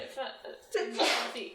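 A single quick human sneeze bursts out around the one-second mark, amid a small group of people chatting around a tabletop game.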